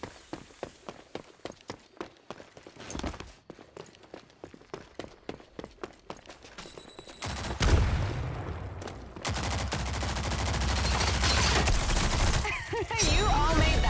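Gunfire in the shooter game Rogue Company: rapid bursts of sharp shots in the first half, then a louder, denser stretch of continuous noise with scattered impacts near the end.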